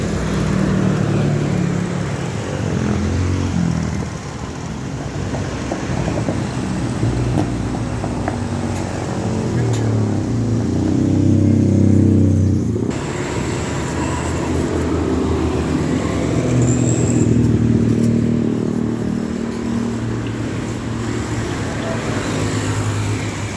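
Steady flow of busy road traffic on a route between Bukittinggi and Padang, heard beside a roadside fried-snack stall, with continuous car and engine rumble passing at close range and voices talking intermittently over it.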